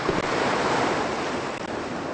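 Ocean waves at sea in the video game Die Reise ins All, a steady broadband wash of surf with wind noise throughout, no speech.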